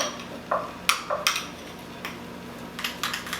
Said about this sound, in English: So here goes with the mixing.